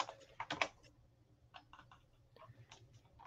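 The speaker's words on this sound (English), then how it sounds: "Ah, keyboard." Typing on a computer keyboard during a coding session, scattered quick clicks in short bursts, faint and close with quiet pauses between.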